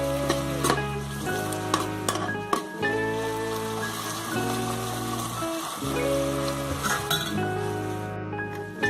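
Onions fry in a cooker until dark golden brown for Hyderabadi chicken dum biryani. A steady sizzle runs throughout, broken by scattered clinks and taps of a utensil against the pot, close by.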